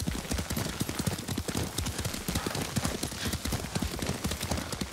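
A horse's hooves pound in a quick, steady galloping rhythm while being ridden in the Ghost of Tsushima video game, loud and close with game sounds around it.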